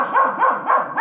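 A dog barks close by in a quick rhythmic series of short, sharp, yippy barks, loud and alone.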